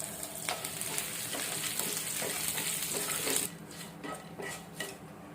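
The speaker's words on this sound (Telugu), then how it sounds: "తాలింపు వేగింది" Mustard seeds, chana dal, urad dal and curry leaves fry in hot oil as a tempering for coconut chutney, giving a steady close sizzle with sharp crackles and pops and no talking.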